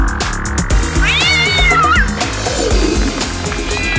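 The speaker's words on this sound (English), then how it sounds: "Okay, that's like a lot of cats." Several cats meow loudly in a chorus over a rhythmic cartoon song, their rising and falling cries overlapping for a couple of seconds amid the music.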